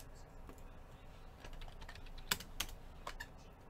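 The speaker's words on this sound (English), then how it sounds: "Type in just Drew" Quiet clicks on a computer keyboard, a few soft scattered keystrokes with several sharper taps near the middle, faint against low background noise.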